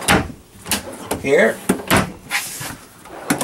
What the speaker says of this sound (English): all on your ball bearing drawer glides